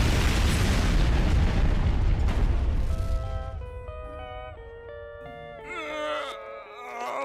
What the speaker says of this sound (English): See that explosion that the creators use every time?